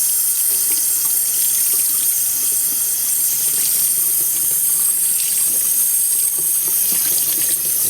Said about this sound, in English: I'm going to wet it down with some warm water.